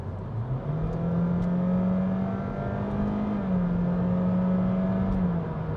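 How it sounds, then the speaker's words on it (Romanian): A 2024 facelift Honda Jazz e:HEV hybrid accelerates in sport mode, its steady droning engine note rising in pitch and holding, heard from inside the car with no talking. "deja bârâie puțin și accelerăm"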